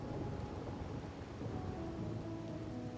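Steady rain hiss with low rolling thunder in the rainy night of the video game Raguna, a constant wash of downpour under a deep rumble, with no talk.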